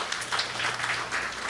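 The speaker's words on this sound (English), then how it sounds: "I want to give him a round of applause" Audience clapping at a Ganesh Utsav celebration, a dense, continuous patter of many hands at moderate loudness, steady throughout with a faint low hum underneath.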